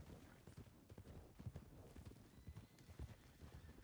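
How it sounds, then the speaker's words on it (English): Wild horses trot in the Wild RP game, a rhythmic clip-clop of hooves with a whinny mixed in, quiet and somewhat distant throughout. "wild horses."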